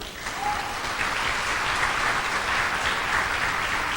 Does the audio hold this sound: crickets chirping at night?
no